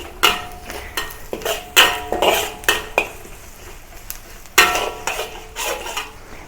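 Curry leaves and chopped chilies sauté in a pan for salted egg shrimp, as a metal utensil clanks and scrapes against the cookware in irregular, sharp strokes over a faint background sizzle.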